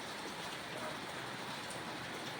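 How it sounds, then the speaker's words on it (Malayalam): Rain falls as a faint, even hiss of steady patter that continues unbroken throughout, with no speech or other distinct sounds. "ഇതിവിടെ മഴയാണ്"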